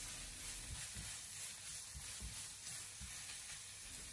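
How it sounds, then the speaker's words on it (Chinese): Chopped ginger, scallion and garlic stir-fry in a hot wok, giving a soft, steady sizzle broken by faint rhythmic scrapes and tosses, heard alone and quietly. "再把切好的姜葱蒜放进锅中，继续的煸炒一下"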